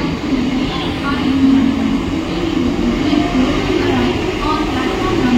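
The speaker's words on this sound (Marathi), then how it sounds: "ठाण्याला जाणारी ही लोकल आणि प्लॅटफॉर्म क्रमांक 1 वर आली ही लोकल" A Mumbai local train bound for Thane pulls in at platform 1, a loud steady rumble and roar close by, continuous for the full stretch with no break in the noise.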